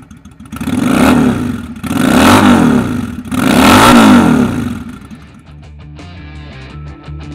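A 2008 Yamaha V Star 650 Classic motorcycle fitted with an aftermarket exhaust revs hard three times in a row, each loud, rumbling burst rising and falling, before settling into a quieter, lumpy idle.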